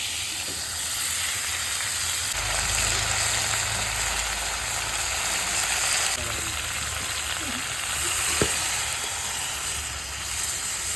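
Katla fish heads, coated in salt, turmeric and a ginger, cumin and chili paste, frying in hot oil, a steady loud sizzle and hiss lasting throughout.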